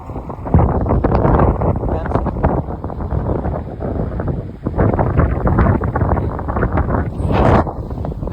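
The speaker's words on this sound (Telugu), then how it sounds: "బీభత్సం గాలి వస్తుంది" Strong wind buffets the microphone while riding a bike in the mountains, a loud continuous roaring rush with gusts, and voices speak briefly over it.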